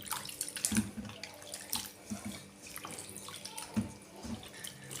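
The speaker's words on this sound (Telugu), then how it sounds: "ఈ మటన్ అయితే మంచి శుభ్రంగా కడుక్కోవాలి. 2-3 సార్లు శుభ్రంగా కడుక్కోవాలి." Fresh mutton pieces rinsed in a bowl of water, with close splashing and sloshing in short bursts and a few sharp knocks, no speech.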